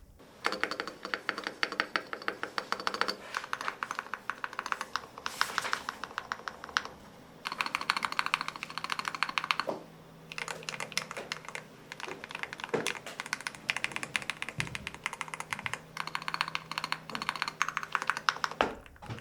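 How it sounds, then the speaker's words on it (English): Steady typing on an Akko MOD007 Santorini mechanical keyboard with deep, non-hollow keystrokes, close and clear. The quick runs of clacks pause briefly and are punctuated by the heavier thunk of a larger key, with no talking. "I've got to say the keyboard sounds really lovely."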